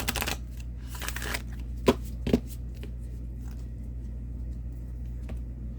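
Alchemy cards being shuffled for a tarot reading, a few quick riffling bursts at the start, two sharp taps, then quieter card handling over a low steady background hum.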